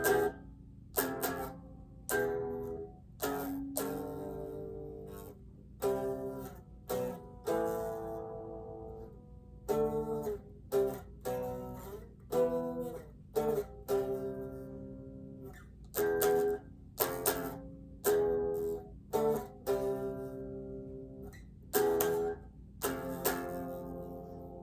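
Guitar plays a song's chorus alone: a sequence of strummed chords in a steady rhythm, each struck loudly and ringing briefly before the next, with no talking.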